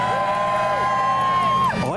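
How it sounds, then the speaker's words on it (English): A crowd of car-meet spectators whoops and cheers for a Ford Focus in a supermarket car park, loud sustained shouts with rising and falling yells layered over one another. "If you think it sounds good, cheer for the Focus"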